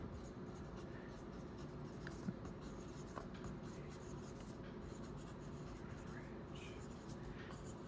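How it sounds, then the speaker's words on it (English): Pen scratching steadily across paper while notes are written out for a physics problem on the average density of bricks, a soft continuous scratch beneath a constant background hiss, with no talking. "I'll write that down."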